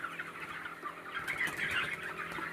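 Chickens cluck and murmur continuously in a poultry farm shed, a dense flock chatter at moderate level with no voices.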